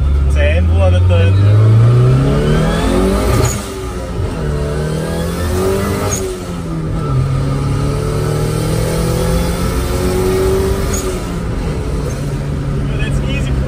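A turbocharged Nissan 1400 bakkie with a stock motor revs hard and pulls away loudly, its pitch rising and falling through gear changes. People talk over the engine the whole time.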